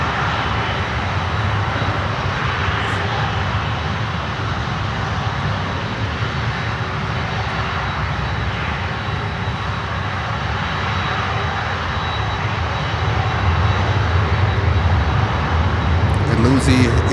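Global X Airways airliner coming in, a loud, steady engine roar and broadband rumble that holds throughout and swells slightly toward the end, with someone talking over it.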